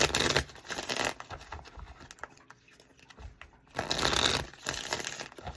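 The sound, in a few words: shuffling a Muse Tarot card deck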